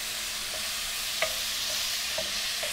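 Onions sauté in butter in a pan on a stove at medium heat, giving an even, hissy sizzle with a few soft ticks and clicks, heard without any talking.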